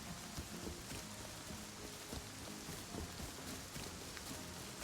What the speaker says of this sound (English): I know the rain's gonna be loud no matter what, just because it's rain and it's a game